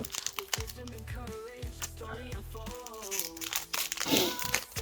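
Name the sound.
opening a Pokémon card box packaging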